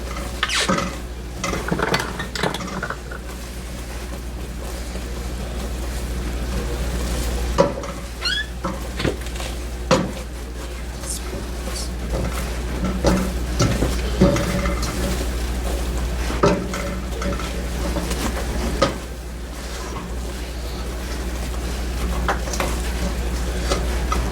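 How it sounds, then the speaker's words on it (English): Caramel stirred steadily in a pot over heat, a utensil scraping and knocking against the pan in irregular strokes over a low steady hum, with a soft sizzle underneath and no talking. "we want to make sure all surface areas in contact with the caramel is being stirred for the next 60 seconds"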